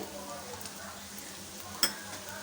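Chopped carrot, capsicum, beans and potato are stirred into a pan of tempering, giving a faint, soft sizzle with one sharp utensil clink near the end.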